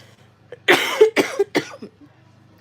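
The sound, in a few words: cough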